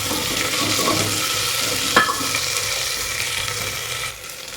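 Onion and green chillies sautéing in a pan, a steady close sizzle with a single sharp clink of a spoon on the pan partway through, quieting slightly at the end.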